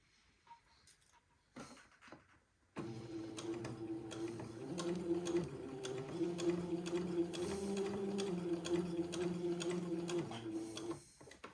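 A sewing machine stitches the shoulder seam of a boy's old-fashioned baby day gown, its steady mechanical whir running close and continuous for several seconds after a faint start, then cutting off.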